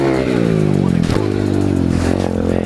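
A dirt motorcycle engine revs hard with a quick throttle blip as the bike takes a jump, loud and close, the note rising then dropping with some clatter.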